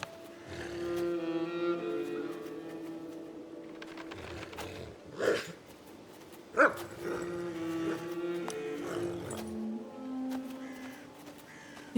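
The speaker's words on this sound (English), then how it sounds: "Using the rope, Arthur approaches the dog, who starts to growl." A dog in the video game Legends of the Round Table growls and barks over a few seconds, with sharp yips and a couple of louder bursts against a steady background.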